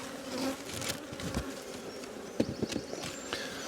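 Honey bees buzz around an open hive, a steady insect drone with occasional louder passes near the listener and a few soft knocks and handling sounds.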